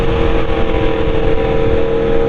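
A BMW motorcycle engine pulls steadily under throttle in fifth gear at about 4,000 rpm, giving a loud, continuous, even drone with rumbling wind noise and no talk.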